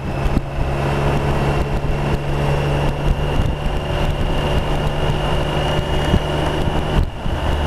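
A BMW K75 motorcycle riding along a country road, a steady loud engine drone with heavy wind rush across the microphone, continuous and unbroken throughout.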